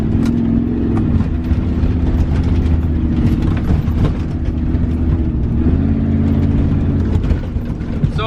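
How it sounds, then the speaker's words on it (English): A Ford Bronco prerunner running on dirt trails near Lake Matthews, a steady, loud mechanical engine drone with rattling and clanking from the truck throughout, no voices. "Just trying to find the lake by driving through some of these dirt trails."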